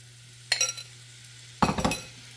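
Butter garlic chicken pieces dropped into a hot pan in two bursts, each a loud crackling sizzle with metallic clatter that quickly settles back to near silence.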